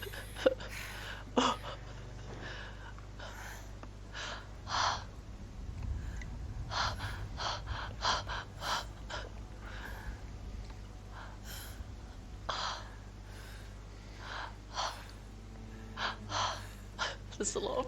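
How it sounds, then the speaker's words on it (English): Heavy, anxious breathing from a character in the video game Shadow of the Tomb Raider: repeated gasps and sharp inhales and exhales spread across the clip, close and prominent over a low steady game hum. "Anxious breathing, heavy breathing."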